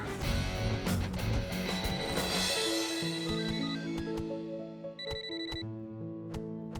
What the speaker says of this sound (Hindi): कब से फोन बज रहा है भाई, सुनाई नहीं देता?